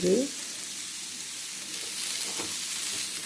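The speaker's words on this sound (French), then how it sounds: "Nous allons faire cuire les brochettes." Skewers cook in a hot pan with a soft, steady sizzle after a short, louder burst at the start.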